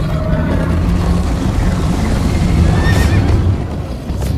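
A horse whinnies loudly over a steady rush of galloping hooves and wind in Minecraft: Story Mode, the noise dense and continuous throughout.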